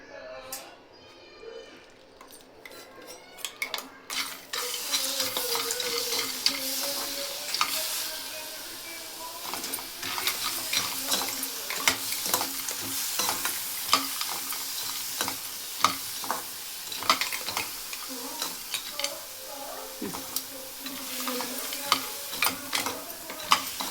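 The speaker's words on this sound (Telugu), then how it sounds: "గింజలకన్నీ బాగా పట్టాలి కారం, అది బాగా కలిపేసుకోవాలి" Peanuts being stirred with chili paste in a pan over low flame for a Rayalaseema spicy peanut snack, with close sizzling and repeated scraping and clinking of a spoon, a voice talking briefly at the start.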